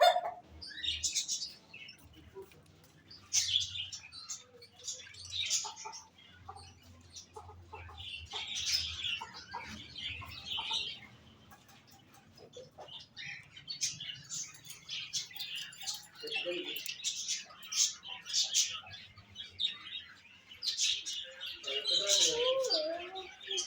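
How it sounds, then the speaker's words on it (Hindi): Birds in a bird shop where pigeons are kept, giving a steady chorus of close chirps, clucks and calls that rise and fall throughout with only brief lulls. "कबूतर।"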